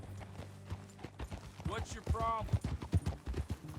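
Horse hooves clip-clop in Red Dead Redemption 2 as a ridden horse moves along, a steady rhythmic patter running under game dialogue between characters.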